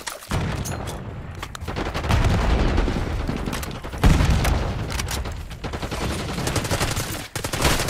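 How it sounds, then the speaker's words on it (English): Call of Duty gameplay fills with loud bursts of gunfire and a booming frag grenade blast, dense rapid shots near and continuous, with a heavy explosion around the middle. "Frag going out."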